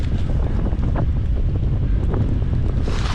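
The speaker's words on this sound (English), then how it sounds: "Oh, we are windy." Strong, below-zero wind on an island buffets the microphone in a loud, constant roar, with gusts rising and falling near the water and no one speaking.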